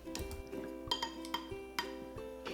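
A utensil clinks and scrapes against a bowl while maple syrup and garlic are stirred together, with several sharp metallic taps over a steady low hum, close and fairly quiet, no talking.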